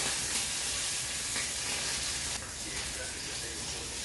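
Bacon fries in a pan with a loud, steady, close hiss and sizzle that runs without a break, easing slightly toward the end.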